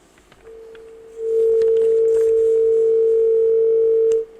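A steady telephone dial tone sounds loudly and alone after a call is cut off. It rises in after a faint start and holds unbroken for about three seconds before stopping.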